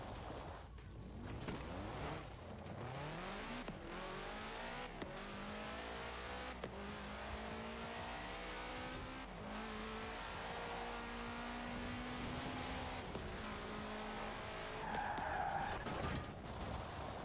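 A car engine revs and its tires screech in long sideways slides in the game Forza Horizon 4, the pitch sweeping up and down over a steady rumble, sustained and close throughout.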